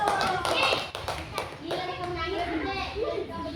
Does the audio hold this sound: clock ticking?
no